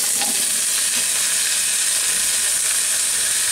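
Chopped new potato, cauliflower, papaya, radish, carrot, pumpkin and beans tumbling into a hot oiled pot, a steady loud sizzle and hiss with faint stirring scrapes.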